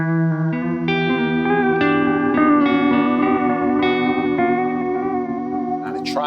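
An electric guitar played through a Chase Bliss Thermae pedal with sine wave modulation, sustained chords ringing with chorus-like wobble and echoing repeats, loud and continuous with no talking.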